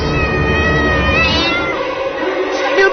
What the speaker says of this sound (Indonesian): sambil mengeluarkan bunyi suara kucing yang terdengar jelas dari mulutnya